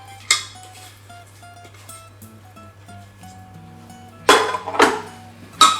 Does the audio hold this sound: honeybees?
no